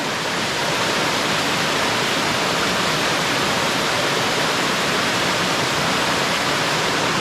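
A Blue Ridge forest creek runs in a steady, close rush of flowing water, loud and constant across the whole stretch with no voices.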